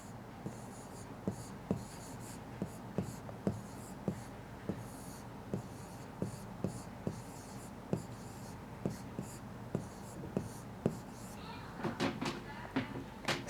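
Pen or chalk strokes on a board during a class science lesson, a steady series of short scratchy marks repeating at an even pace, with a quiet voice beneath and a quicker flurry of strokes near the end.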